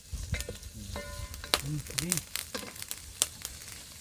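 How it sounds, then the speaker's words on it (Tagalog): Vegetables sauté in a pan with a steady broadband sizzle, punctuated by stirring clatter and sharp utensil knocks, while voices talk nearby throughout. "Gisa na, gisa."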